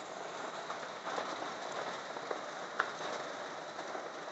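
Heavy rain pours down as a steady, even hiss with a few faint drips and taps, heard alone at low volume throughout.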